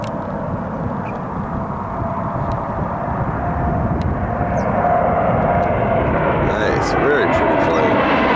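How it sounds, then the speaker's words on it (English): A Porter Airlines Embraer E195 jet roars past at close range, a loud broadband engine rumble building steadily over about eight seconds, with faint clicks near the end. "Next we have ourselves a Porter E195 out of Toronto."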